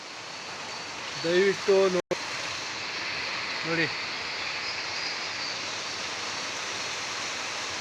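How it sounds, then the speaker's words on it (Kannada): Heavy rain pours onto paddy fields in Odeyadahalli, Srirangapatna taluk, a dense, even hiss that holds for the whole stretch, while someone speaks briefly near the start. "ಮಳೆ ಹನಿ ತುಂಬ ಫೋರ್ಸಿಂದ ಬೀಳ್ತೈತೆ"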